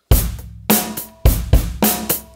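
Drum kit playing a quick fill without a metronome: loud, punchy hits in bursts, each with a short decay, at an uneven, driving rhythm.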